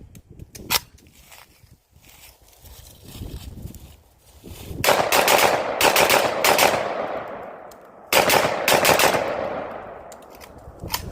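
A PSA AK-105 rifle fires in short, sharp bursts, loud and close with echo trailing after each burst and quieter handling noise between them.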